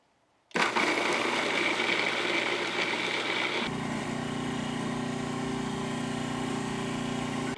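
A food processor whirs loudly as it runs on garlic and kosher salt for Lebanese toum, starting abruptly and running without a break, its motor tone dropping partway through.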